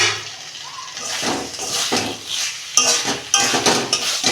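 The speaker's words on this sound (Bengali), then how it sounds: "দেখুন বন্ধুরা, ঢাকনা খুলছি।" A cooking-pot lid is lifted during vegetarian Malabar spinach cooking, giving a couple of sharp metallic clinks over a soft bubbling sizzle.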